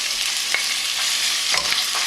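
Beef for rendang sizzles steadily in a hot pan with star anise and spices, a loud continuous frying hiss broken by a couple of soft stirring scrapes, with no voices.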